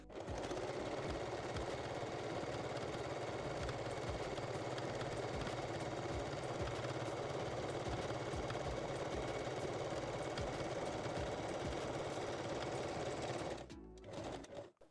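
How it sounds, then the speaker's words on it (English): A regular sewing machine runs without pause through a foam bra cup seam, a dense, even mechanical whirr held at steady speed for most of the stretch before it slows and stops near the end. "move to regular sewing machine. Backstitch first and then lightly push the pieces together"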